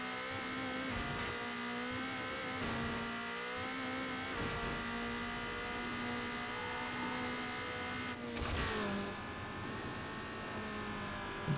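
A Fiat engine car in Need for Speed Underground revs steadily, holding a sustained engine drone through the whole stretch with brief surges and a sharper burst near the end, loud and close with no voices.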